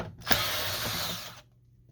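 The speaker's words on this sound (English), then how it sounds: "And now we're going to remove the screws" A powered screwdriver whirs steadily for about a second while backing screws out of the board of an HP Deskjet F4480 printer, close and fairly loud, then cuts off into near silence.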